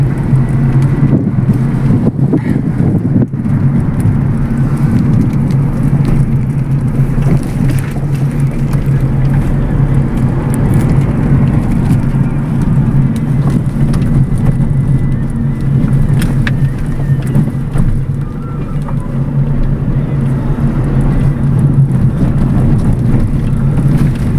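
A car drives along a potholed highway, its loud, steady engine and road rumble filling the cabin alongside wind buffeting, with occasional thumps from bumps, no talking.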